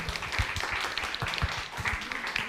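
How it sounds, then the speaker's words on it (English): A small audience at a workshop session gives a brief round of applause, sparse and uneven claps that sound thin and moderately close. "just one big round of applause"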